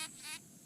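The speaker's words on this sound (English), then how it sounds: "So you can hear a buzz that is really loud, and you can also hear a buzz that is really soft." A bee buzzes in two short bursts, a bright whining drone that rises and falls, faint and close against quiet background hum.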